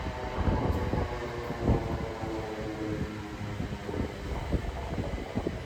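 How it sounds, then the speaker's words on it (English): Ambience at Havant rail station in England: a steady rumbling wash of rail noise and distant machinery, with faint clatter and hum throughout and no nearby voices. "I am at Havant rail station and train hasn't arrived yet"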